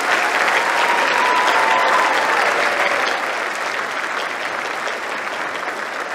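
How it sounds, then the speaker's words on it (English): An audience at a National Honor Society induction applauds the new inductees, a full burst of dense clapping that stays strong, then eases slightly toward the end. "please join me once again in applauding all of our new Honor Society members"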